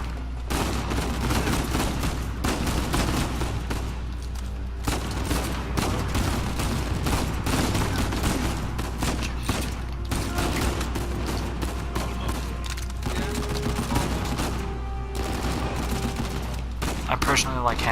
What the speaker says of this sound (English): I hate that this gun only holds like 4 bullets.